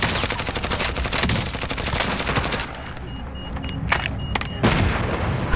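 Rapid gunfire in Call of Duty: Modern Warfare's Plunder mode, with dense bursts of automatic shots and booming impacts that thin out, then sharp isolated shots ring out near the end.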